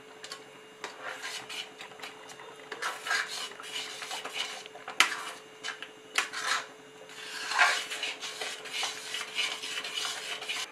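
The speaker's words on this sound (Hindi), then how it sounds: "अब मैं इसे मिक्स कर देती हूँ और इस तरीके से।" Mahua halwa with cashews being stirred in a pan, giving a steady run of scraping and rubbing strokes from a spoon against the pan, continuous and close with no talking.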